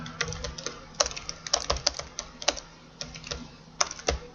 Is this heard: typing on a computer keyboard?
yes